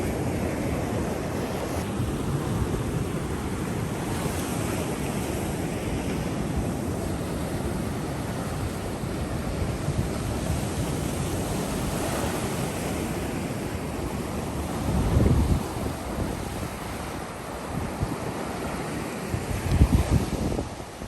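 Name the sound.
ocean waves breaking on a beach, wind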